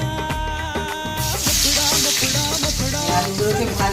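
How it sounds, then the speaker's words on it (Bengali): Cut potatoes sizzle and fry in hot oil, a continuous loud crackling hiss that swells after a second, with faint clinks and musical tones underneath. "আলুগুলোকে ভাজতে ছেড়ে দিলাম।"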